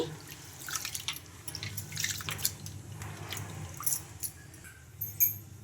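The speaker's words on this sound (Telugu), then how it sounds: "ఈ బియ్యాన్ని శుభ్రంగా కడిగేసుకుందాం ఒక రెండు మూడు సార్లు ఇలా కడిగేసుకుంటే డస్ట్ అంతా పోతుందండి" Quiet splashing and dripping of water as ration rice is swished and rinsed, with irregular sloshes and drips close by.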